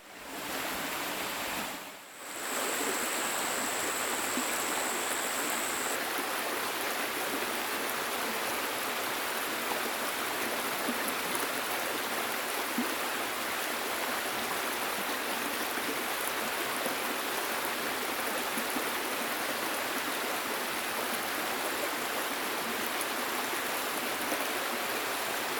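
A pristine mountain creek flows in a steady, full rush of water that stays close and even throughout, after a brief dip at the very start, with no voices.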